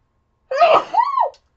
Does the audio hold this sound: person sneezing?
yes